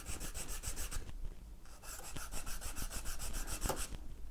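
A nylon washer rubbed against sandpaper to reduce its diameter, producing rhythmic rasping strokes in fast back-and-forth bursts, close and fairly quiet, with a brief pause between runs.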